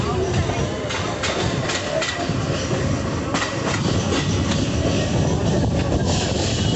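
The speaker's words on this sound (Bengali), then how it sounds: "ট্রেন আমাদের ভাঙাচোরা লাইনে তুলে দিয়েছে।" A local train in Bengal on the Santragachi–Amta line runs over rough, broken track, giving a steady loud rumble with irregular clanks and jolts throughout, heard from inside the carriage.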